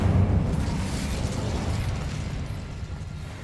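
A fiery Incendio spell burst in the Hogwarts Legacy video game, a loud whooshing roar of flame that starts strong and slowly fades over a few seconds.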